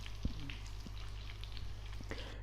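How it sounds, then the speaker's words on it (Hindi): Chicken pakora pieces frying in a pan, a steady soft sizzle with a few faint pops and stirring clicks, alone without talk. "हमने सारे चिकन को इस तरह से फ्राई कर लेना है अब बारी बारी से"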